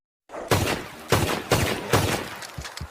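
Gunfire from a GTA 6 trailer, matching the Red Dead Redemption 2 M1899 pistol: four loud, evenly spaced shots, each with a short reverberant tail, followed by a few softer thuds.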